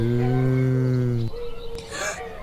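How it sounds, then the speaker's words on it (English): A large cow lets out one loud, long, close moo that cuts off abruptly, followed by brief quieter rustling. "Come on, let's follow the cow."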